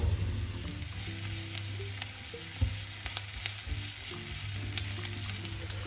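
Onions sizzle steadily in a hot pan, with occasional crackles and the clink of stirring close by.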